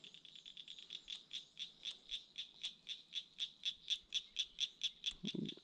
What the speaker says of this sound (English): Got some baby frogs hollering at me.